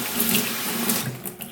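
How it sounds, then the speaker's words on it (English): Tap water runs steadily and splashes as a Lawn-Boy F engine's foam air filter is rinsed free of soapy suds in a sink, close and continuous with no voices. "just rinse the air filter under some running water to get out all the soapy suds"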